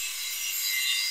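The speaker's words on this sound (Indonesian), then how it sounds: "jadi pakai amplas-amplas dengan grade ya 1000" Fine 1000-grit wet sandpaper rubs along a keris blade in a soft, continuous hissing scrape, close and fairly quiet, with no talking.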